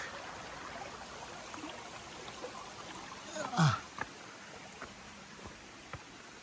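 Steady rushing of brook water over rocks on a mountain trail fills the clip, with a brief louder splash or scuff partway through.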